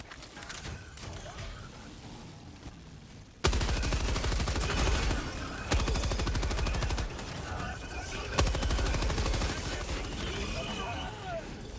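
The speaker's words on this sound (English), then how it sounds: "Getting my machine gun." Machine gun fire in the video game Helldivers II: sustained rapid bursts of automatic shots, loud and dense, with brief breaks between bursts and voices talking over the battle.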